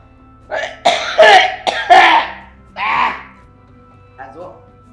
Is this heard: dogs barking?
no